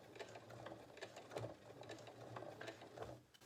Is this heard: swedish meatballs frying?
no